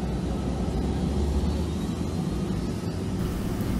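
Inside the cabin of a 50-year-old DC-9 airliner flown by Fly540 between Nairobi and Kisumu, a loud, steady engine and airflow roar fills the air in flight without a break.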